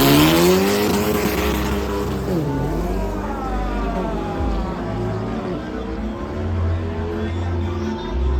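A Formula 4 race car drives nearby, its engine note rising and falling with harmonic sweeps and a brief dip mid-run, steady and loud throughout with a faint voice underneath.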